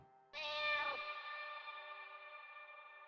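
A single drawn-out cat meow, heavily processed with echo and effects so it rings on and fades slowly over several seconds.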